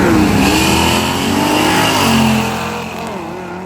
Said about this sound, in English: Nice little wheelie from the G-body.